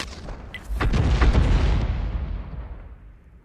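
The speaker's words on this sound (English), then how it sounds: "Fires another round in blind" A GW Panther self-propelled gun in World of Tanks fires a round with a sharp crack that swells into a heavy booming blast, then rolls off and fades over a few seconds, with no one talking.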